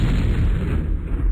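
An air gun fires in the MechQuest video game as a deep, booming blast effect. The heavy, rumbling burst sounds loud and sustained, with no talk over it.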